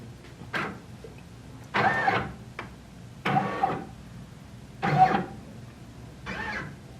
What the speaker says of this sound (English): Before I begin embroidering, I'm going to trace the item to make sure that my design clears.